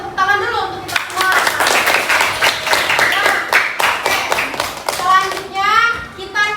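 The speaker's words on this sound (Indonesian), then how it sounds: "kita tepuk tangan dulu untuk kita semua" Classroom applause from a primary school class, a dense burst of many small hands clapping that runs steadily for several seconds, with children's voices chattering and calling out over it.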